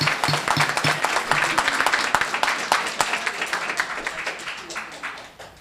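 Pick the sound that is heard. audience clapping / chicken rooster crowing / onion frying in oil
audience clapping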